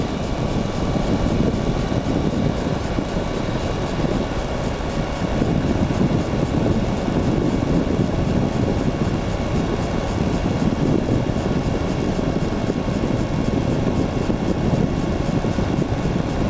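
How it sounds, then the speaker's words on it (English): Aircraft engine drone with rushing wind in flight, a steady, loud, continuous roar that holds for the full length with no talk. "the feel of the engine and the sound of the engine and just the wind blowing on you"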